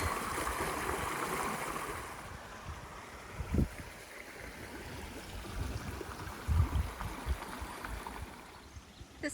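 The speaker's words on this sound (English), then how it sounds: "Just did another stream crossing right here." Continuous rushing and gurgling of a clear mountain stream at a hiking-trail crossing, with a few splashes and footstep-like thumps.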